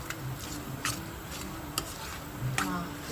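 A spoon stirs gulkand into a modak filling in a pan, making a soft continuous sizzle with quick repeated scraping ticks against the metal.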